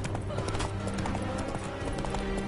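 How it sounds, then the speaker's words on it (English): Roach the horse in The Witcher III: Wild Hunt game, hooves clip-clopping at a steady pace with a whinny, dense and continuous, with game music and a voice partly over it. "Whoa there, Roach"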